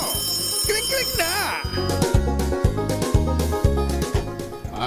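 A telephone ringtone on a Philippine radio news program, a repeating electronic ring pattern over a steady musical bed, loud and continuous.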